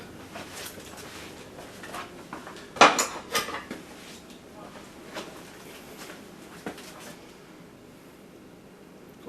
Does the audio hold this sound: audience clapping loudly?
no